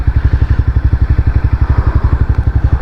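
Honda CBR300 motorcycle engine heard close and loud, a steady rapid pulsing rumble at idle or low revs with an even, regular beat throughout.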